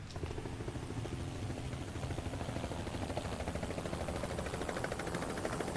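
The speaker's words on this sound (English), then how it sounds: "That is a helicopter." A helicopter from the video game Project Zomboid drones steadily overhead, a continuous rotor thrum that stays loud and even throughout, with no voices over it.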